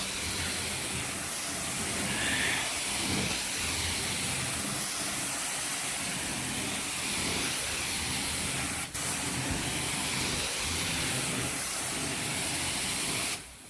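A carpet cleaning extractor wand making dry strokes over basement carpet gives a steady, loud rushing hiss of suction and spray that runs unbroken and alone from start to finish.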